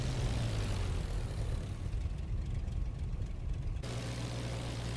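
A WWI-era aircraft engine in IL-2 Flying Circus drones steadily at low power while the plane taxis and turns on the ground. The sound is a continuous, fairly quiet rumble with a change in tone near the end, and no voices are heard.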